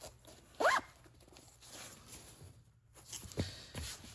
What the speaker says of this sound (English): We got our zipper installed.